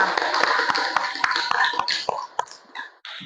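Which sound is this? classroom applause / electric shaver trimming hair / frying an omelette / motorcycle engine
classroom applause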